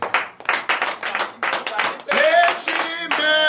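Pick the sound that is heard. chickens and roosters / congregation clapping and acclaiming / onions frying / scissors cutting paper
congregation clapping and acclaiming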